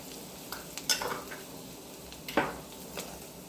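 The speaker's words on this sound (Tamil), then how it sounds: "அடுப்பில் வானல் வச்சுட்டு கொஞ்சமாக எண்ணெய் ஊற்றிட்டு அதில் தாளிக்கிறதுக்கு கொஞ்சம் வடகம் போட்டுக்கணும்" Hot oil crackles and sizzles in a pan as vadagam fries for tempering, with a few sharp spatters and light stirring scrapes; no one speaks.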